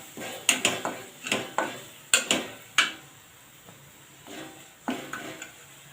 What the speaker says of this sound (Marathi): आता इथे मसाले सर्व मिक्स करून घेऊया